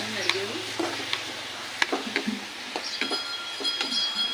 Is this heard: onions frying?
yes